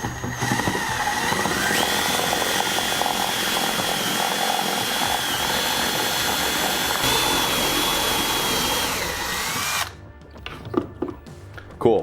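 A step drill bit grinds a hole with a loud, continuous, close metallic whine, steady for about ten seconds before stopping, followed by a few faint clicks and handling noises.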